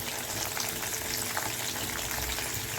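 Jackfruit fry cooking in a pan gives a dense, even sizzle with light stirring scrapes throughout, close and steady, with no voices.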